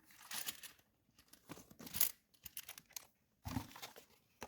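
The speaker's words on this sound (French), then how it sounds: "On va mettre dans la petite enveloppe." Crinkling and rustling of a small paper budget envelope as a €5 cash note is slipped inside, several close, quiet bursts of crisp paper handling separated by brief pauses.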